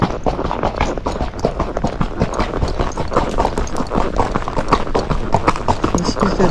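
Hooves of a Tennessee Walking Horse clop steadily on the floor of a barn, a close, rapid, continuous patter, with some talking mixed in.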